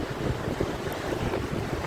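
A large waterfall swollen after rain gives a steady, dense roaring rush that fills the whole stretch without a break.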